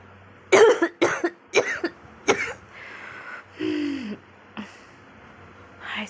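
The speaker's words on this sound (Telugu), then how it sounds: "దగ్గు వస్తుంది" A person with an uncomfortably tight stomach coughs close to the microphone: a quick run of about five sharp, harsh coughs, followed by rougher throaty hacking and breathy rasps with short pauses between them.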